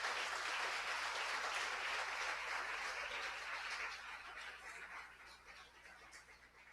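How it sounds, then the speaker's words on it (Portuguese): Church congregation applauding the Lord during an evening worship service, a dense, sustained wash of clapping that stays steady and loud before gradually thinning and softening toward the end, with no voices over it. "Vamos aplaudir ao Senhor."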